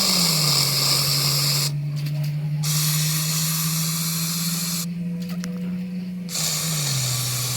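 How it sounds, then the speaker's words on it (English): A loud, continuous insecticide spray hiss aimed at a ground nest of yellow jackets, with a low hum underneath. It breaks off twice for a second or so, then resumes. "I'm just gonna keep spraying."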